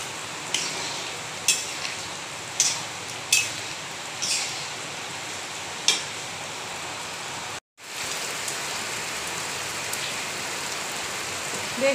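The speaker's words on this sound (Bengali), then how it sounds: "জোরে জোরে বৃষ্টি হচ্ছে আর সঙ্গে ঝড়।" Heavy rain in a storm roars in a continuous hiss, punctuated by several sharp gust-like bursts and a brief dropout midway, with a cooking pot of ghugni boiling nearby and no speech.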